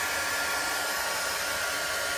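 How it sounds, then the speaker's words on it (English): An embossing heat tool blows air to dry a chalk transfer on a chalkboard, producing a loud, steady, whooshing roar like a hair dryer with no pauses. "So a little bit of noise from the dryer."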